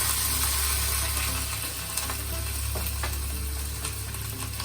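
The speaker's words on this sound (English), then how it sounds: "the ginger, the chopped green chilli, and just give it a quick stir" Ginger and chopped green chilli with a pinch of hing sizzle in a pan for paniyaram as they are given a quick stir, a steady loud frying hiss with faint scraping ticks over a low hum.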